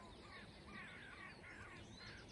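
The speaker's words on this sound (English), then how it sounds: "Listen to the crows" Crows caw faintly in the distance on the slopes of Mount Snowdon in Wales, a few harsh calls over a quiet outdoor wind hiss.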